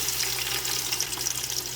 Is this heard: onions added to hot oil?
yes